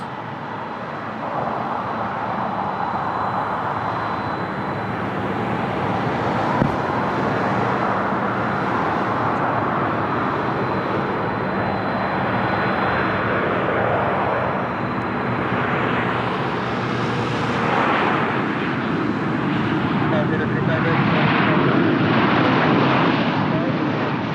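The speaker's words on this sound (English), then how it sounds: "On short final we have the 737 of Transavia operating as a flight from Nantes." A Transavia Boeing 737 on short final at Lisbon Airport produces a loud, broad engine roar that builds and rumbles steadily throughout. A voice talks faintly underneath.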